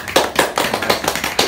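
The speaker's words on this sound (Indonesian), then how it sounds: "Tepuk tangan yang belakang banget." An audience at the back of a hall claps in sharp, evenly spaced bursts, fairly close and loud, with no voices over it.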